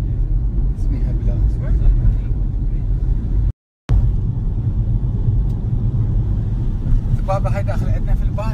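Steady low engine rumble and road roar fill the interior of a bus travelling from the airport in the Philippines, with a brief dropout midway and faint voices murmuring underneath.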